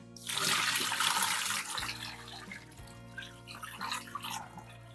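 Hot water with soaked prunes pours out in a loud, rushing splash into a kitchen sink, then fades to lighter trickling and dripping, with no talking.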